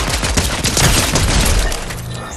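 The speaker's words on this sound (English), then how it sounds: "Who the hell is shooting?" Dense, loud burst of gunfire from a Fortnite Battle Royale match, several shots crackling over one another and fading slightly toward the end, with no talk over it.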